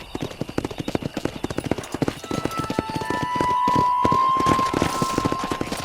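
Rapid, rhythmic horse hooves gallop in the Western video game Red Dead Redemption, loud and close, over a rising wash of wind and ambient game sound.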